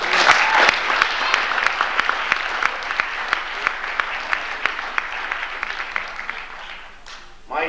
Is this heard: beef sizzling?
no